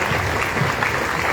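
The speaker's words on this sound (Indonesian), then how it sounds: "tepuk tangan" Dense, steady audience applause at an evening Islamic gathering in a pesantren, a continuous close clatter of many hands clapping with no voices.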